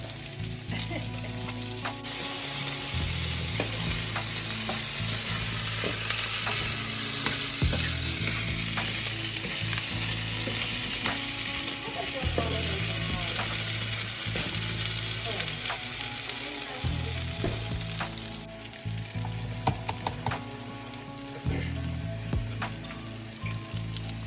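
Kale wilting in butter in a hot pan gives a loud, continuous sizzle and crackle, with occasional clicks of stirring and no talk over it.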